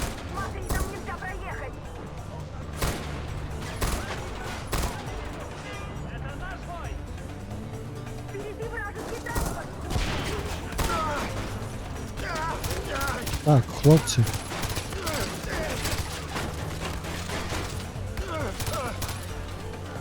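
Scattered bursts of gunshots from the video game Far Cry 4, some in quick volleys, crackle under casual talking voices throughout.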